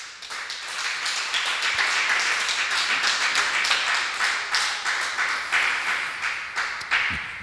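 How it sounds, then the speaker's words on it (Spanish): Church congregation applauding together during a Spanish-language worship service, a steady, fairly loud wash of many hands clapping with rhythmic pulses running through the whole stretch. "Un aplauso al Señor."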